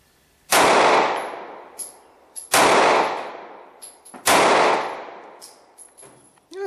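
Three loud, close pistol shots from a Kahr CW9 9mm handgun on a range, each a sharp blast with a long ringing decay, spaced about two seconds apart with faint clinks between.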